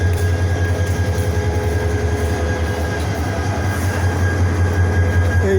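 A lone diesel locomotive grinds along the tracks at Chittagong railway station, its deep engine rumble throbbing steadily and close by, with faint wheel noise underneath.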